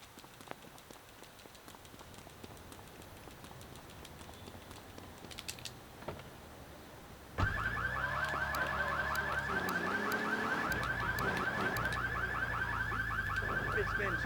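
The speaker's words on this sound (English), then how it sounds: "Let's give this car alarm a minute to go away." In Grand Theft Auto III, a car alarm starts suddenly partway through and keeps up a loud, steady electronic warble, after quieter game background and light clicking.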